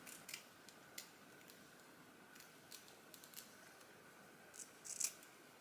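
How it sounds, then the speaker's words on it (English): Scissors snipping the sideburns off a lace frontal wig, a few faint, close, crisp snips spaced out over quiet room tone. "we're gonna cut these little sideburns off first"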